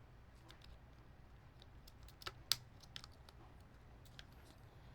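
Typing on a rebuilt mechanical keyboard, quiet uneven clacks with a few louder key strikes standing out above a low steady hum.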